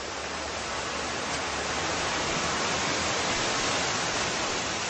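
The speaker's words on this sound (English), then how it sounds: "I can hear nothing but the peaceful sound of rushing water" Rushing river water at a stony riverbank in Pakistan roars as a dense, unbroken wash of noise, loud and constant from start to finish.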